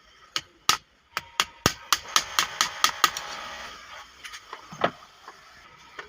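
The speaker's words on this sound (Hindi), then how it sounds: "ऐसे पेचकस रख के हमने यहाँ पे चोट मारना है" A screwdriver is hammered to knock a shaft collar loose on a Siruba overlock machine. About a dozen sharp, close metallic knocks come in a quick uneven series, then a few scattered taps.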